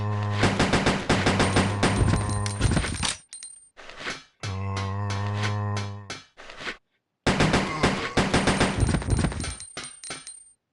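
Submachine gun fire in Resident Evil Code Veronica X comes in three rapid-fire bursts separated by short silences, each a dense, loud stream of sharp shots with metallic ringing casings.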